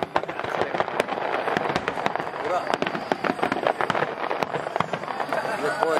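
Wide star mine fireworks display at the Tsuchiura fireworks festival: rapid volleys of sharp bursts and crackles in quick succession, loud and close, with an excited crowd and voices talking and shouting over them.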